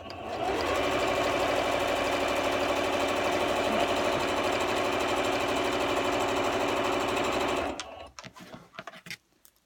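A sewing machine runs steadily for nearly eight seconds, stitching a straight seam along the raw edges of a drawstring bag, then stops abruptly, leaving light handling noise.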